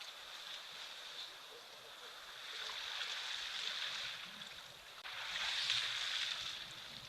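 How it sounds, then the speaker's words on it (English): Elephants at a waterhole slurp up water and squirt it, heard as soft hissing, sloshing swells that rise and fade, faint and distant with a quiet, steady background. "The sound of these elephants slurping up that water, squirting it into their mouths."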